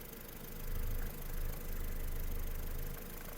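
A 2011 Ford Fusion engine idling at a steady low rumble, quiet and constant with a slight swell in the middle.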